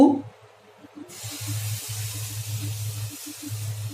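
After a brief low murmur, a steady hiss of masala dosa batter sizzling on a hot griddle starts about a second in and continues, with faint low humming underneath.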